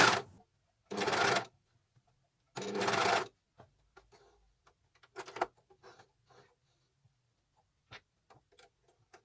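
A Juki MO-6714D overlocker stitches an armband in the round, running in three short, close bursts of rapid stitching separated by pauses, followed by a few faint clicks and light handling noises.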